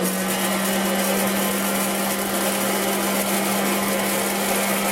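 A Presto Orville Redenbacher hot air popcorn popper runs steadily, a loud constant fan-and-heater whir with a fixed hum, close and unchanging throughout with no voices.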